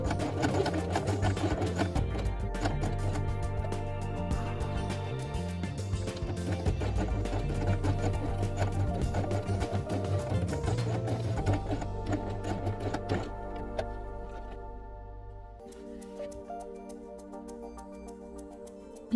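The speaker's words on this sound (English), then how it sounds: "sew it on twice with blue thread." Sewing machine stitching through felt with blue thread, a steady mechanical whirr that runs continuously and loud, then eases toward the end with softer, sparser stitching.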